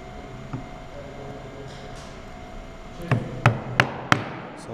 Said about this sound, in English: we mortise 2 mil away from our shoulder line as the chisel pushes back once it hits the material